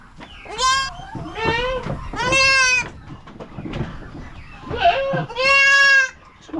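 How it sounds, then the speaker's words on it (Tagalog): A stuck goat bleats loudly and close by, with about five strained, wavering calls separated by short pauses. Quieter background noise sits between the cries. "May kambing na naipit, oh."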